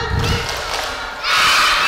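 Children in a crowd shout the 'tepuk semangat' spirit cheer, a loud burst of massed young voices that swells louder near the end, with clapping mixed in.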